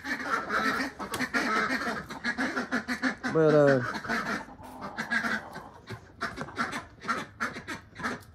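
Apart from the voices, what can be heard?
ducks quacking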